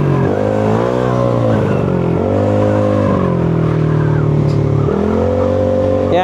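A Yamaha Aerox 232cc scooter rides along, its engine droning with rising and falling pitch as the throttle is worked, loud and close, with wind noise and no talking.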